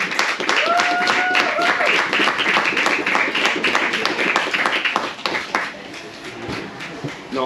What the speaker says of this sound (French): Une belle main d'applaudissement pour nos trois pilotes!